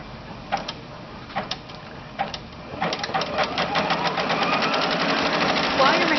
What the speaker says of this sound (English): Now that my design is placed appropriately, I'm ready to embroider